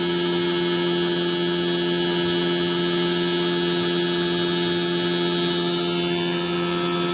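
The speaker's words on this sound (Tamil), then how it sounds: "இன்டோர் ஃபேன் மோட்ரு ஓடுது." The indoor fan motor of a Samsung air conditioner runs during self-diagnosis, a constant loud electrical hum with a steady tonal whine and no pauses or voices.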